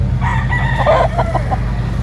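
A rooster crows once, close and loud, its call rising and breaking into short drawn-out notes over low background rumble.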